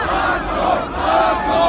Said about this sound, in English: Russian police detained anti-corruption protesters in central Moscow to cries of "shame, shame" from the crowds